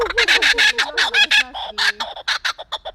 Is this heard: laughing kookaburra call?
yes